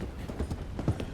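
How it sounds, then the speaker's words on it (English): Horse hooves clopping at a steady run over wooden bridge slats in Red Dead Redemption 2, a close, even rhythm of hollow hoofbeats above a suspended drop. "Apparently can't ride fast on the bridge. I mean, that's kind of sensible because like this horse is running on"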